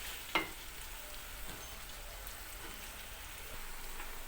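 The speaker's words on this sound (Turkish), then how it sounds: "Bu havuç, kapya biber, kuşbaşı, soğan, sarımsak iyice burada kavrulsun." Carrot, red pepper, diced meat, onion and garlic sauté in a pan, giving a steady soft sizzle with one brief sharp clatter near the start; no one speaks.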